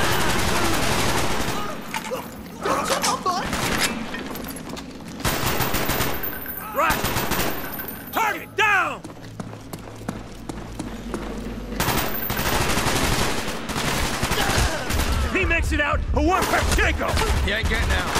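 Gunfire in Call of Duty Black Ops, the mission Payback: loud, sustained machine-gun bursts and rapid shots close by, with shouted voices over the fighting.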